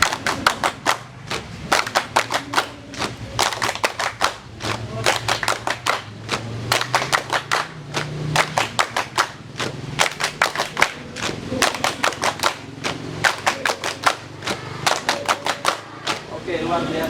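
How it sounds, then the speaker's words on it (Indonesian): A group claps quick rhythmic bursts again and again during a classroom ice-breaker, crisp and close, while voices chant along beneath the claps. "10 kali tepuk"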